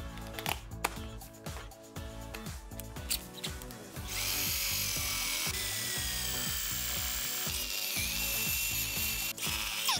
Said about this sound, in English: we're gonna drill some holes in the wall now